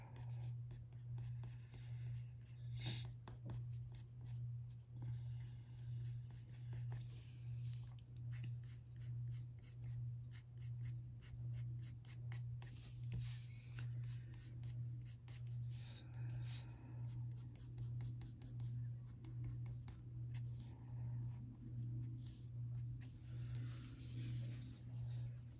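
Colored pencil, a light umber brown, shading across tan paper in steady, soft scratchy strokes that repeat in a close, continuous rhythm over a constant low hum.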